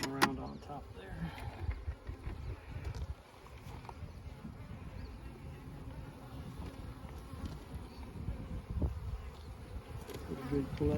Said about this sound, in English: A good collection of bees.